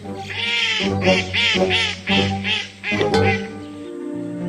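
A cartoon duck quacks about six times in quick, rhythmic succession, close and clear, then lets out one more drawn-out call.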